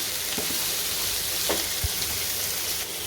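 Capsicum and cabbage stir-frying in a hot pan for singapore rice, a loud continuous close sizzle with a few soft thumps of the spatula, no talking.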